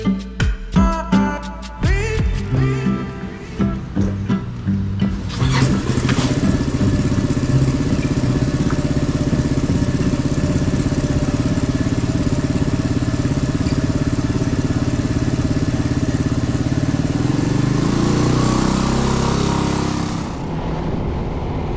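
A QJ Motor FORT250 motorcycle, running on Idemitsu oil, is ridden along a country road. Sharp rhythmic engine pulses at first settle into a loud, continuous engine drone with wind, which eases slightly near the end.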